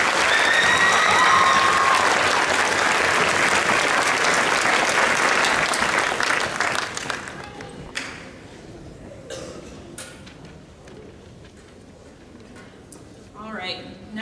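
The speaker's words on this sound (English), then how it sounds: "Give them a round of applause." Audience applause at a high school spring concert, full and sustained for about seven seconds before thinning into scattered claps and quieter room noise.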